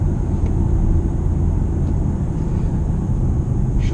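BMW i8 hybrid sports car heard from the rear, a steady loud low rumbling drone with no breaks, heavy in the bass.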